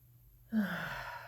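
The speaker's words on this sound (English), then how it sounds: "Just take a deep breath in" A single slow, deep inhalation drawn in during a guided breathing meditation, close and soft, rising after a brief quiet moment and held steady as an airy rush.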